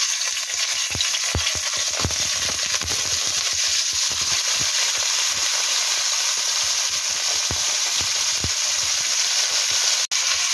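Shrimp sizzle steadily in hot oil in a pan, a dense continuous frying hiss with scattered pops and crackles, loud and close, with no talking.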